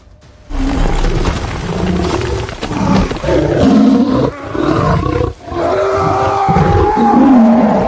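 A lion roars loudly and close in a series of long, rumbling bursts, with brief gaps between the deep growling calls.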